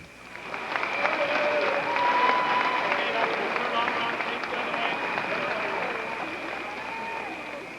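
Gym audience at a 1998 state basketball championship applauds the girls' 2A good sports team, sustained crowd clapping that swells and holds at a moderate distance, with a faint tone and scattered voices beneath it.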